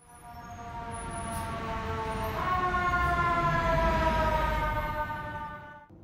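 A wailing toy fire truck siren rises and falls steadily for several seconds, loud and close, with a faint mechanical whir beneath it.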